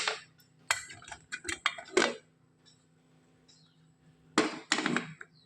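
A steel pressure cooker lid is opened and the pot is handled while cooking Hannu huruli kayi bean gravy, giving a quick run of sharp metallic clinks and clatters, a pause, then another burst of clanking.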